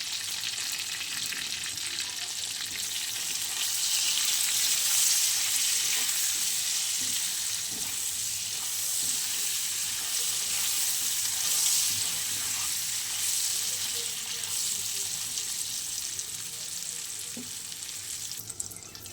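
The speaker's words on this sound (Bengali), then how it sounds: "দেখো বন্ধুরা আমার ভাজা হয়ে গেছে।" Pieces of rohu fish and eggplant fry in oil seasoned with turmeric and salt, a loud, continuous close-up sizzle holding steady throughout with occasional faint clicks of a utensil.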